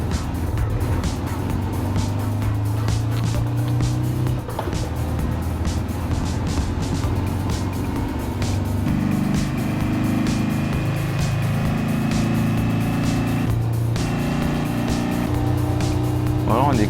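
A tuned VW Combi van's engine in Gran Turismo Sport at Le Mans, a loud steady drone with pitch climbing through gear changes and short tire squeals, continuous throughout with faint speech mixed in.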